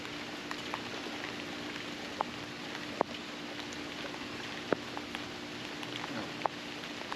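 Steady rain patters down outdoors during a Jamaican jerk barbecue, a dense even hiss punctuated by a few sharper drops striking nearby surfaces.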